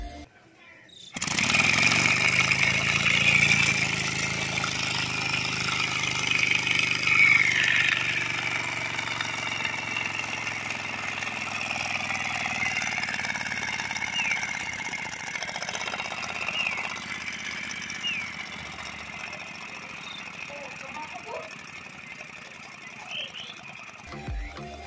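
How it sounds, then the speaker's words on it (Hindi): A homemade air-pressure steam engine model runs with a continuous mechanical whirring hiss that starts abruptly and gradually loses speed and loudness, fairly close by. "फ्रेंड जैसे कि आप देख पा रहे हो इस इंजन की स्पीड कम होती जा रही है।"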